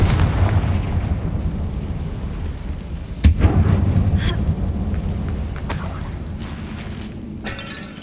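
A Confringo blasting spell detonates inside a closed-off tomb in a Hogwarts game, one loud sudden boom midway over a low rumble, followed by crackling debris and lingering rattles.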